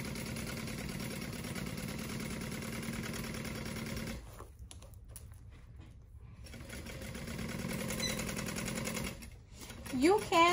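A sewing machine stitches a crossbody bag in a steady, buzzing run, pauses briefly, then resumes at moderate loudness, with a person talking over it.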